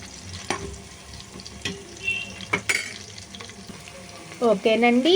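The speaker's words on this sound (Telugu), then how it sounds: "ఇది మంట లో ఫ్లేమ్లో పెట్టుకొని ఆనియన్స్ గోల్డెన్ బ్రౌన్ వచ్చేంత వరకు వేయించుకోవాలి." Onions frying over a flame for a Sunday chapala (fish) curry, a steady moderate sizzle with occasional stirring clatter and a brief burst of water or tap noise near the end.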